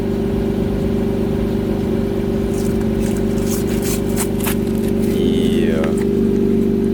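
An Infiniti Q50 with an ARK Grip exhaust idles in a steady, loud, low drone, with scraping handling noises and a brief voice near the end over the running engine.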